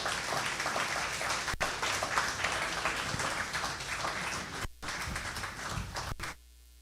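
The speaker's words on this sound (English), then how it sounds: "Let's have another round of applause for Professor Emeritus Hollis Sharpness" A crowd applauds at an exhibition launch after a presentation. The dense, steady clapping fills the room for about six seconds, with a couple of brief dips, then stops abruptly.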